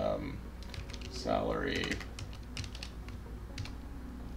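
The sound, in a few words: typing commands on a computer keyboard in Git Bash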